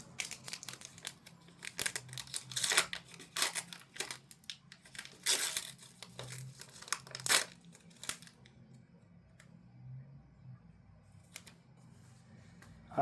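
Foil-coloured plastic tea bag packaging crinkled and rustled close up in irregular bursts, loudest in the first half, then fading to sparse faint crackles.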